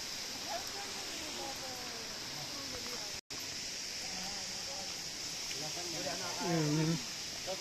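Water pours steadily at a small waterfall, a constant hiss that fills the background, with people talking over it throughout.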